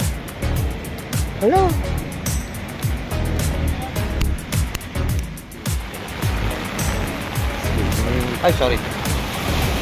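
Floodwater from heavy rain in Abu Dhabi splashes and sloshes around continuously while people talk excitedly nearby, with a vehicle-like rumble in the background.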